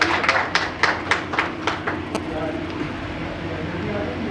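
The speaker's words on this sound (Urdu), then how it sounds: "آپ سب کی بھرپور تالیوں میں" A handful of steady, rhythmic claps from an audience at an Urdu poetry gathering of a literary club in Islamabad, fading out after about two seconds into a low room murmur.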